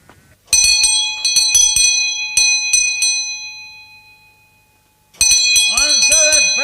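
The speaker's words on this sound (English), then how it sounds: "Answer that bell, someone here." A ringing house bell in a 1920s English country house, clear and loud, rung in several quick bursts with bright sustained tones, a pause as it fades, then rung again as a voice starts speaking.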